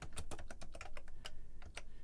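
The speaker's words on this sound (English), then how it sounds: "And all I'd have to do is type in here." Close, steady typing on a computer keyboard, a quick run of key clicks with no talking.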